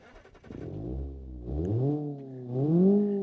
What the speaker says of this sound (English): you do get a decent sounding 4-cylinder engine